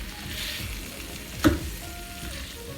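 Pork ribs frying in a pan for oven-baked barbecue ribs, a steady soft sizzle with one brief louder clatter partway through, no talking.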